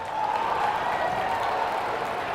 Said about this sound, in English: The crowd doesn't like it. The home crowd, of course, does.